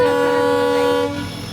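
A loud, sustained train horn blares with steady harmonic tones for about a second, then cuts off, leaving the rumble of a passing train.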